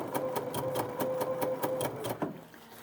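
A Bernina sewing machine stitching a blind hem, a quick, even run of needle strokes close by that slows and stops near the end.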